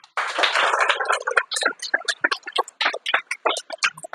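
Children clap hands in a classroom, a brief burst of applause that breaks into scattered, uneven individual claps continuing for several seconds.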